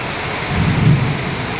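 Heavy rain pours steadily with wind and lightning in a dense broadband hiss, with a low rumble of thunder swelling in the middle before easing back.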